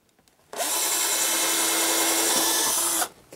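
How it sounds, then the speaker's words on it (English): A power drill pre-drills into wood for model railroad turnout roadbed, whirring steadily for about two and a half seconds, starting and stopping abruptly, close and loud with no talking. "And we can go ahead and pre-drill it."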